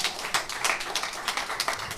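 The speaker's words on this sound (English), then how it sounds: "Let me hear some claps if you're from Houston." An audience at a live event in Houston claps in a brisk, irregular patter of hands, moderately loud and close, with no talk over it.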